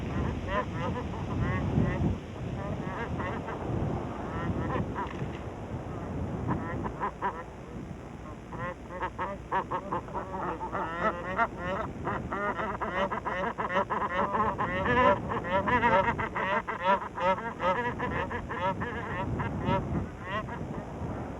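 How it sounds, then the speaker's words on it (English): A flock of bar-headed geese feeding in barley fields in Ladakh honk and cackle repeatedly, some calls close and others farther off, over wind noise and a low background rumble. "For millennia, the bar-headed geese have been feeding in the fields of Karzak with impunity."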